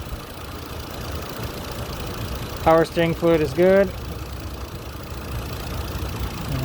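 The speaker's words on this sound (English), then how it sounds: "Very, very clean running engine." An old Lexus engine with about a quarter million miles idles smoothly and steadily, a low even hum running throughout while someone speaks briefly over it.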